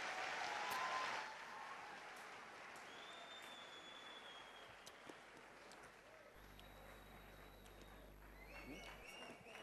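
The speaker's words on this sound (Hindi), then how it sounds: "जोरदार तालियां" An audience at a motivational talk bursts into applause, with a brief burst of clapping at the start that quickly fades into a quiet room murmur.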